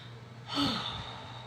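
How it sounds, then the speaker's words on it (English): A single deep breath is drawn in audibly, close and soft, as a brief inhale that swells and then trails off against quiet room noise. "I want you to take a deep breath."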